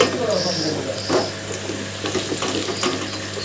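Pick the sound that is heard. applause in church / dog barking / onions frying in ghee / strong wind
onions frying in ghee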